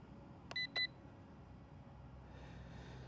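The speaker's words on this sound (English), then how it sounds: "So we heard a beep" Two short electronic beeps in quick succession from a DEERC D65 GPS camera drone controller, clear against a quiet background hum, followed by faint hiss.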